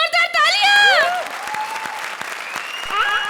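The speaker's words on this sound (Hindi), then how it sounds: "जोरदार तालियां।" Audience applause at a televised comedy stage show swells in the middle, mixed with sweeping tonal voice or sound effects at the start and end.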